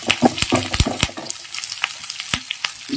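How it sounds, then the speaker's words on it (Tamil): Spinach is laid into onions softening in a pan for a fish and greens stir-fry, giving a close, loud sizzle punctuated by sharp clattering knocks and rustles early on, then a steadier, quieter frying hiss. "இந்த கீரையை இதில் வைக்கணும்."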